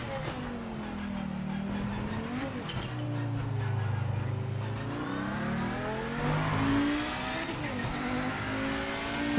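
A race car engine in the Project Motor Racing video game revs and shifts steadily from the cockpit view, its loud pitch climbing and falling through the gears over continuous engine drone.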